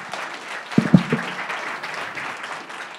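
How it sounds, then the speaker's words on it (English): Brief audience applause at a startup pitch event in Atlanta, a short burst of scattered claps over room murmur, moderate in level and fading after about a second into crowd noise. "Give them a round of applause"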